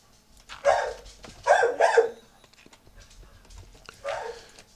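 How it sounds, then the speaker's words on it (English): A dog barks in a Minecraft game, with three bursts of loud, close barking separated by short pauses. "Not exactly sure what he found to bark at, but he's definitely giving it the what for"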